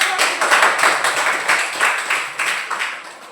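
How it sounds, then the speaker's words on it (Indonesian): A class of students claps hands for a presenting group, a close, fairly loud burst of rhythmic group clapping with pulses that gradually thin out. "kita berikan tepuk tangan untuk kelompok 2"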